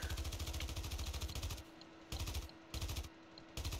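Full-auto gunfire in a video game, loud rapid bursts of shots with brief pauses between them, close and dominant with no talking.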